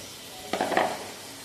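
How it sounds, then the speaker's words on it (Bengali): Marinated mutton dropped into hot onion-fried oil gives a sudden close sizzle burst with a short spattering crackle that quickly fades. "এবার আমি ওই পেঁয়াজ ভাজার তেলের মধ্যে পুরো মাংসটাকে দিয়ে দেবো এখানে"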